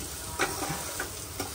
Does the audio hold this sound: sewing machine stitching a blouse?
no